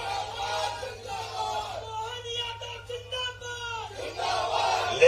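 A crowd at an outdoor political rally shouting slogans together, the massed voices swelling and falling in chant-like waves, fairly distant and slightly echoing.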